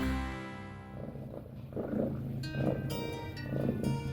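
A low, rumbling purr rolls along steadily and close up, with soft rhythmic pulses and faint higher noises.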